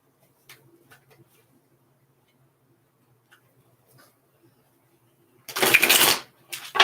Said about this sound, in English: I'm just getting all my cards shuffled here.